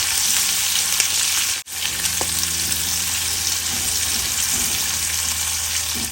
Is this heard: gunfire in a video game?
no